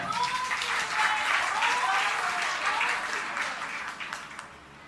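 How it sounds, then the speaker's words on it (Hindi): Loud, sustained applause from a large audience at a Jain religious discourse gathering, a dense wash of clapping that holds steady and tapers slightly toward the end. "एक बार जोरदार तालियां"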